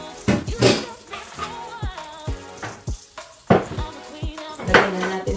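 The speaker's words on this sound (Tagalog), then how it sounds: "Igisa na natin yung ating pork steak." Pork steak with fried onions sizzles in a pan while a utensil clatters and scrapes against it, bursts of frying and repeated clinks rising and falling close by, with no talking.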